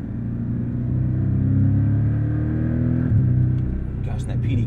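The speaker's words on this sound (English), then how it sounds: "that PDK shifts so fast, so good" Porsche with a PDK gearbox accelerating on a track, its engine a loud steady drone heard from inside the car, with a quick shift as the note drops and climbs again.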